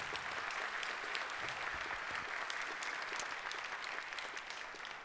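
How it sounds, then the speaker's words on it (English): An audience at a tree-planting inauguration ceremony in Värö claps steadily, a dense, even patter of many hands filling the room without a break. "a warm applaud as well"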